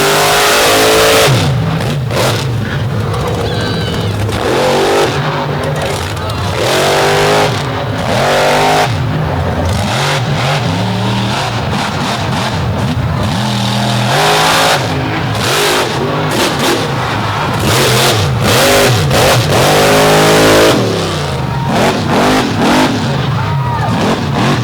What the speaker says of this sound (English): he is singing that motor right now. Really put some RPM on that thing.